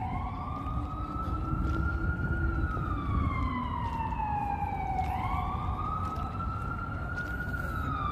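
Emergency vehicle sirens in Manhattan, New York City, wail continuously, pitch gliding down and back up in long sweeps, layered over heavy street rumble, with no voices present.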